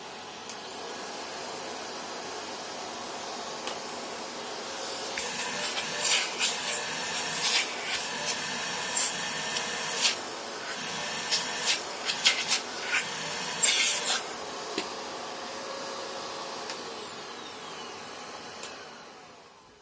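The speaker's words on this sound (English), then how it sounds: "I'm going to turn on the Orc, and this, remind you, this is used to be the quietest vacuum I had." An Orc vacuum cleaner runs with a steady, loud, high whine, broken by scraping and rattling bursts midway as it works over a surface.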